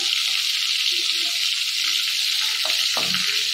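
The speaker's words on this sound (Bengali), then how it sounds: "ভেজে নেবো চিংড়ি মাছগুলো।" Large prawns frying in hot oil, a steady bright sizzle close to the pan with a couple of faint knocks near the end, no talk.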